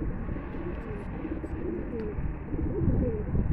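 A black Katrangi pigeon coos softly in low, repeated murmurs against a steady background hum, with no talking over it.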